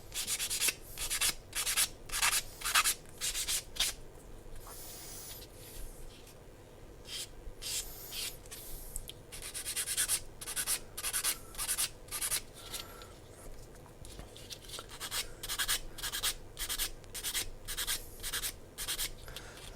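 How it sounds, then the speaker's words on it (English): A sanding stick scrapes mould lines off small plastic model kit parts in quick rhythmic strokes, a soft close rasping that comes in repeated bursts with short pauses and no speech. "a bit of a sanding stick just to take them off"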